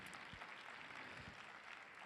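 Faint, distant applause from a conference audience after an opening keynote address, a soft continuous patter of clapping for about two seconds with no voices over it.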